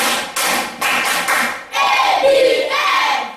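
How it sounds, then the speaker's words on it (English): A class of students does a rhythmic group clap in an abacus lesson: several loud, sharp bursts of hands striking together in quick succession, close and forceful, with a brief chant-like voice mixed in. "Now give yourself an ABM clap."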